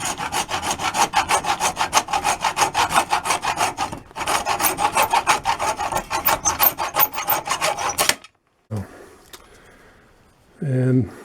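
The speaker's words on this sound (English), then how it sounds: "And then I'm going to use a hacksaw. Cut off this bone." Hacksaw rasping back and forth through bone clamped in a vise, a rapid steady run of close, loud strokes with one brief pause, then stopping; a voice speaks briefly after the cutting ends.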